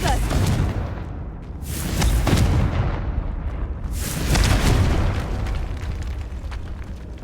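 Fiery Confringo spell blasts in the Hogwarts Legacy game, two or three heavy booming explosions that swell and rumble, each trailing into a broad roaring decay, loud and close.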